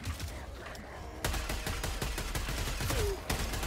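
Rapid video game gunfire aimed at an enemy, a dense burst of repeated sharp shots that starts abruptly and keeps going loud and close, with a faint voice underneath.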